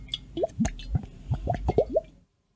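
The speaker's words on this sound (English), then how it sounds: "When you pour it out of the gurgling cod, it makes this sound." Water pours out of a gurgling cod jug in a quick series of hollow, bubbly glugs, close and distinct, ending abruptly in silence.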